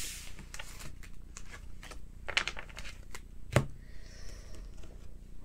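Tarot cards are drawn and shuffled close up, with quick papery slaps and light clicking flicks in an irregular rhythm.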